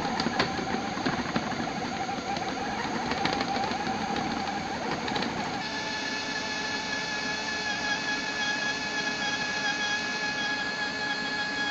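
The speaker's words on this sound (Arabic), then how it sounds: "هبتدي بقى اخلط كل المكونات دي لغايه ما تتجانس جدا كلها مع بعض." A food processor blends ground chicken, ground vegetables and rice flour into a kofta mixture, a continuous close motor whir and grind whose pitch steadies and rises midway as the mixture smooths, with no speech.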